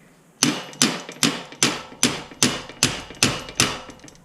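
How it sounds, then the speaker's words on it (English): A mallet strikes a bearing in a BMX sealed bottom bracket nine times in a steady rhythm. Each blow is a sharp, close metallic knock that rings briefly before the next. "use a mallet so it doesn't damage the bearings, and just keep on hammering it until the bearing"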